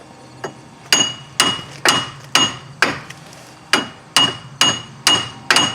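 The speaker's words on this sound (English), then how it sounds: "we're going to tap this on either side, and it should drive it out" A hammer taps out the front wheel hub of a 2003 Chevrolet Impala: about eleven sharp, ringing metallic strikes at a fairly even pace, close and loud.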